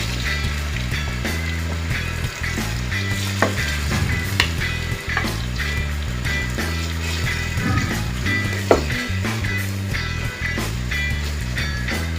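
Food frying in hot coconut oil for a spinach stew, a constant close sizzle with occasional stirring clatters and pops, loud and continuous without speech.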